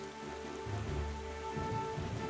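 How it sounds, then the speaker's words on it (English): Steady rain patters in The Legend of Zelda: Wind Waker HD, with a low thunder rumble rolling underneath and sustained music tones layered on top, fairly faint. "You're just going to listen to the rain and thunder and this cool music."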